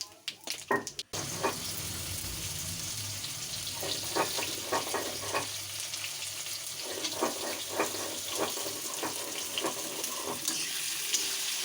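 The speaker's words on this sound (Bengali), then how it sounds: "এবার আমি কড়াইতে দিচ্ছি গোটা গরম মশলা, জিরে, গোটা জিরে, তেজপাতা।" Whole garam masala, cumin seeds and bay leaves frying in hot oil in a kadai give a steady close sizzle after a few opening clatters, with scattered stirring scrapes and ticks running throughout.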